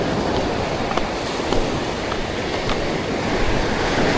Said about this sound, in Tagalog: ang lalakas ng alon